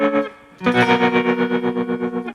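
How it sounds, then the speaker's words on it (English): Electric guitar through Ableton's Roar plugin on a 60s-style fuzz distortion setting. After a short plucked lead-in, one loud buzzing, saturated chord rings out with a regular pulsing wobble and slowly fades, heard alone. "Future Surf gives us our 60s style fuzz."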